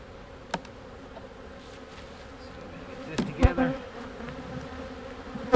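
Honey bees buzz around an opened beehive, a soft continuous droning hum with a few louder close passes near the end.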